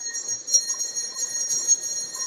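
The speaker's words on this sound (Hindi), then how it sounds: "घंटी की आवाज आ रही है ना? प्रेयर हो रही है? आरती आरती हो रही है।" Ringing of temple bells during an aarti prayer, a steady sustained metallic tone with soft repeated strikes, heard from a distance behind low background noise.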